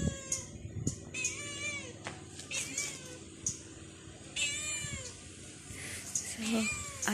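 A cat meows loudly and repeatedly outdoors, its cries rising and falling in pitch in a string of insistent calls, with someone talking quietly in the background.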